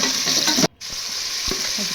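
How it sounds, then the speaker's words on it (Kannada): Onions fry in oil in a pressure cooker for hotel-style tomato bath, giving a steady hiss and sizzle with stirring scrapes and a momentary drop to near silence partway through. "ಈರುಳ್ಳಿ ಕೂಡ ಹಾಕೊಂಡು ಫ್ರೈ ಮಾಡ್ಕೊತಾ ಇದ್ದೀನಿ"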